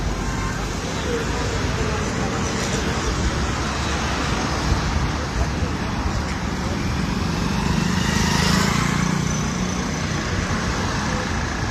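A passenger vehicle's engine hums steadily with constant road and traffic noise, and the rumble swells briefly near the end, under faint, indistinct voices.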